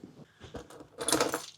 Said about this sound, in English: Get your keys and your phone.